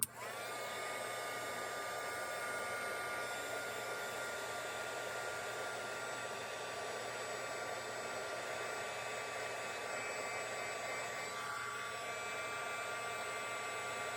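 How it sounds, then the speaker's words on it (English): A handheld heat tool blows hot air onto a small papercraft piece held in tweezers, a steady close whirring roar that runs unbroken throughout. "I'm going to hold on to this and heat it up."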